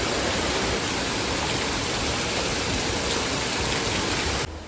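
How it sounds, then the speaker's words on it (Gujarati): Heavy rain pours down steadily outside a house, water already pooling up to the gate, a dense, loud, continuous hiss throughout that cuts off abruptly at the very end. "જો કેટલો બધો વરસાદ આવે છે."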